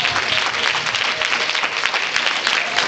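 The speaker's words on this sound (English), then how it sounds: "clap your hands to your God." Church congregation clapping hands in praise at an appreciation banquet, dense continuous applause-like clapping throughout, loud and close with a crowd texture and no clear speech.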